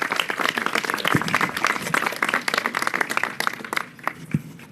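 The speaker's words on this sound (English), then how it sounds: "So we're going to give you a special round of applause and thanks." An audience at a mayoral event on industrial and manufacturing plans claps in a steady round of applause that thins toward the end, with a few voices underneath.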